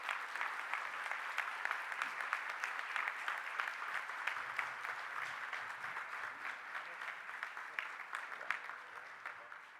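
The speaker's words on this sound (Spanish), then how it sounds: "le pido a todos un aplauso" Steady applause from a conference audience at a Colombian insolvency law congress, a dense even patter of many hands that holds at a moderate distance for the whole stretch with no voices over it.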